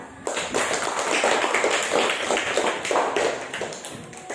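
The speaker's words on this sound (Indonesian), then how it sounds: "Kita tepuk tangan dulu untuk hasil kalian." Students in a classroom clap together for their results, a dense, steady patter of many hands lasting several seconds, fairly close and without talk over it.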